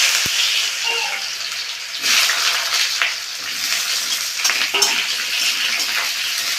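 Raw banana dropped into a hot pan of cumin and dried chili tempering, setting off a loud, steady broadband sizzle that carries on close for several seconds.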